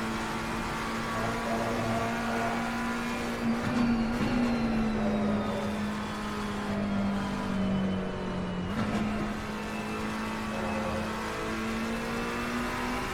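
A race car engine holds near top speed in a sim racing game at Paul Ricard, a steady high droning whine that dips slightly in pitch around the middle before climbing again, continuous and fairly loud, with no talking.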